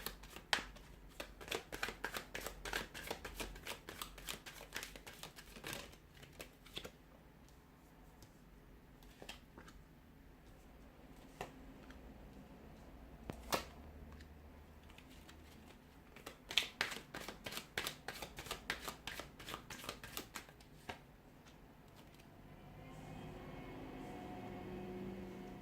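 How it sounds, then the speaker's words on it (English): Tarot cards shuffled by hand, quick riffling bursts and soft slaps of the deck recurring close and quiet against a faint room hum. "So we'll give the cards a shuffle here"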